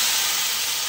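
Hot mustard-seed tempering hits cooked cassava in a Kerala-style curry, giving a loud, continuous hissing sizzle that fills the whole moment without a break.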